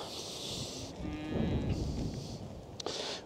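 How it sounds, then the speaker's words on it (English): Cattle low on a farm after winter, giving one long, loud moo in the middle with softer lowing around it over a steady background. "These are the cows."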